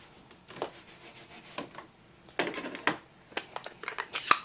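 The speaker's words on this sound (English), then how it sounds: "I'm gonna get my Stampin' Scrub here. Just clean my stamp off a little bit." A rubber stamp is scrubbed clean on a Stampin' Scrub pad, giving close, irregular rubbing and scuffing strokes in short bursts that grow busier toward the end, with no talking.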